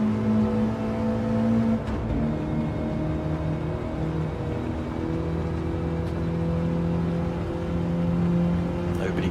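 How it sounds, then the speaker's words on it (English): Race car engine at Suzuka, its throttle feathered to hold traction, a continuous droning whine with slight pitch wavers over nearly ten seconds, steady and fairly loud, with no talking. "Listen to the feathering of the throttle from Treviso, just making sure he keeps this car pointing in the right direction."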